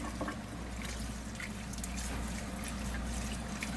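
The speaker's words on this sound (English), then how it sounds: "when that water is clear, coming off of the butter, then you know you've rinsed your buttermilk out of it" Water sloshing steadily as homemade butter made from raw milk is rinsed by hand in a bowl, a continuous close wet swirl with no talking.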